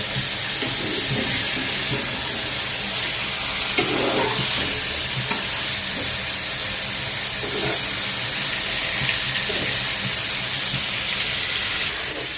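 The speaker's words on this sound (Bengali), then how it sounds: "এখানে যেহেতু মাছটা ভাজা হচ্ছে মাছটা বেশি ভাজবো না হালকা ভাজা দেব" Tilapia fish sizzles steadily in hot oil, a constant bright crackle with occasional louder stirring scrapes, and no voices.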